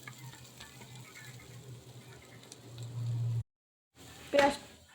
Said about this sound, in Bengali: এই যে আমার পেঁয়াজটা কিন্তু ভাজা হচ্ছে